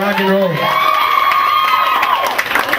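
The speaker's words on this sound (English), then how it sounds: "give them a round of applause because they blew that out of the park" Audience at a bat mitzvah party singing contest cheers and whoops loudly after a performance, with a crowd's mixed shouts and a sung or whistled tone sliding over the noise, voices throughout.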